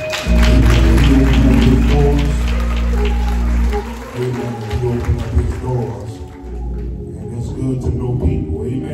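Mourners at a funeral service clap their hands in praise, a dense, loud burst of clapping over sustained organ or music tones, then thinning into scattered claps and murmuring voices.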